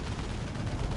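Explosions and gunfire from the Warhammer 40,000: Dawn of War 2 strategy game, a dense continuous rumble of blasts and shots filling one second, loud and without talk.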